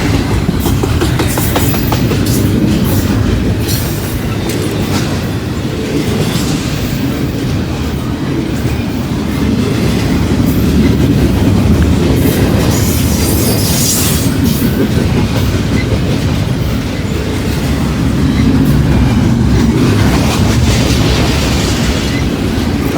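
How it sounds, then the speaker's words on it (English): A train rumbles past on railroad tracks out in open country near a county road, loud and steady for the whole stretch, with continuous clatter and wheel noise and no talking. "So what the heck, we're going to get a train."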